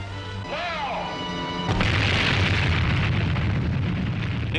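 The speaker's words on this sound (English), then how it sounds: "The explosion had a beauty that cannot be described, the beauty great poets dream about." An atomic bomb test explodes, heard as an abrupt, massive roar that bursts in after a few seconds of tones and swooping whistles, then stays loud and sustained as a broad rumbling blast.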